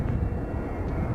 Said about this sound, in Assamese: ৰাফেল হৈছে ফ্ৰান্সৰ দুটা ইঞ্জিন বিশিষ্ট মাল্টি ৰল ফাইটাৰ জেট